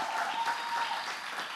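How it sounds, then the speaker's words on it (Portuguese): A church congregation at a thanksgiving service applauds steadily, a dense and even wash of clapping from many hands throughout. "eu queria que você aplaudisse bem forte"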